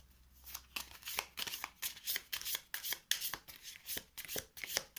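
Playing cards for The 7th Continent board game are shuffled by hand, making a quick rhythmic run of crisp riffling snaps, close and fairly quiet, with no talking.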